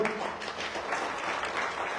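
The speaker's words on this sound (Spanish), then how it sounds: "Da un aplauso al Señor." A church congregation applauds together, steady dense clapping that holds its level for the whole stretch with no voices over it.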